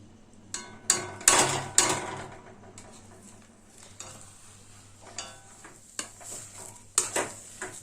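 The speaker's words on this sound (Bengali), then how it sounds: "এবার এই আলু আর সুজি খুব ভালোভাবে মিশিয়ে দেব" Mashed potato and semolina, loosened with milk, are stirred in a pan over a low gas flame. A spoon scrapes and knocks against the pan in irregular strokes, with soft sizzling between the louder scrapes.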